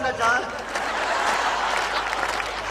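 An audience at a Hindi kavi sammelan poetry gathering in Seawoods bursts into sustained applause, a dense wash of clapping that holds steady for several seconds after a brief voice.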